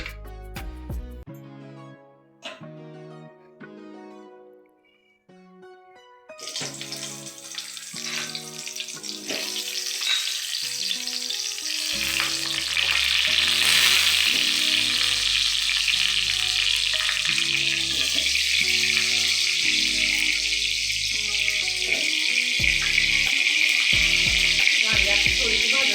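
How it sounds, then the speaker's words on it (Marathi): Brinjal (eggplant) pieces shallow frying in oil for a Maharashtrian vangi bhaat, starting with quiet clinks before a loud, steady sizzle takes over and holds close and continuous to the end. "आता आपण ह्याच्यामध्ये थोडंसं तेल टाकून घेऊया आणि आपली वांगी जराशी शालो फ्राय करून घेऊया त्याच्यामध्ये"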